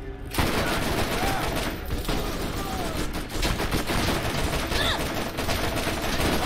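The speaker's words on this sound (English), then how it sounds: "Oh, this machine gun is so much better than my last one." Sustained automatic gunfire from a machine gun in the Borderlands video game, dense and continuous at close range with bursts rolling on for several seconds, and a voice faintly under the shots.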